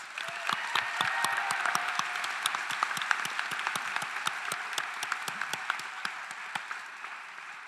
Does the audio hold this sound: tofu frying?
no